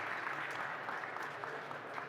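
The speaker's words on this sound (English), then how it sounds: "a big round of applause to our panelists as well" Steady applause from a conference audience for a panel on energy transition cooperation, a dense continuous wash of many hands clapping at moderate volume with no break.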